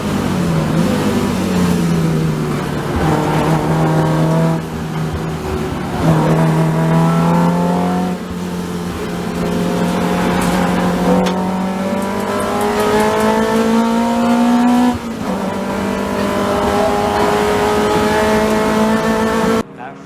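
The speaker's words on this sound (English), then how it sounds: "Rawlings in the BMW E36 and Jack Wright in the Porsche 944" BMW E36 and Porsche 944 race cars battle at Oulton Park, engines loud and close, revving and shifting through rising gear pulls with a steady roar over the whole stretch.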